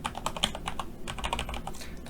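Rapid typing on a computer keyboard, close and clear, with a quick run of crisp clicks and key taps and a sharper keystroke at the very end.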